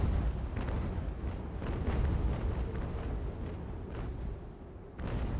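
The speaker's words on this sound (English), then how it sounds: "My cannons are gonna rip you to pieces." Cannon fire in the naval battle game Ultimate Admiral: Age of Sail, a dense, continuous roar of heavy booms and rumbling blasts with repeated sharp reports rising out of the din, loud and sustained throughout.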